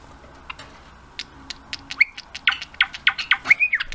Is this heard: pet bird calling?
yes